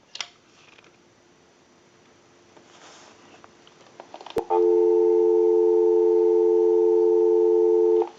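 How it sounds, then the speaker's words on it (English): An Automatic Electric 1A Monophone, repaired and converted, gives a steady, loud dial tone after a click of the line, holding on without a break and with no talk over it. "Go ahead and give you some dial tone."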